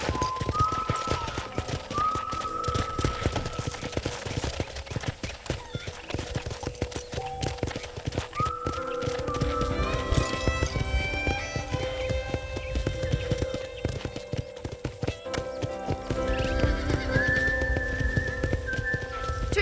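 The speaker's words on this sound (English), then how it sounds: "I picked out a fine horse for you" Hooves clip-clop in a steady walking rhythm while a horse whinnies in the video game Red Dead Redemption, with high whistling tones and music-like notes layered over the hoofbeats.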